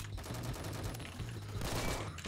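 Rapid gunfire from a .50 cal Glock pistol in Phantom Forces, a steady stream of quick shots running throughout the clip, close and loud.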